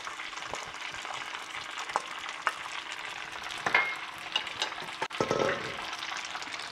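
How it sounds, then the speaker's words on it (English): Fettuccine tossed with pancetta, olive oil and garlic in a skillet over low heat sizzles steadily and up close, with scattered clinks and scrapes from stirring and a brief louder rustle near the end. "keep on stirring and tossing until all the pancetta and olive oil and the garlic is well mixed"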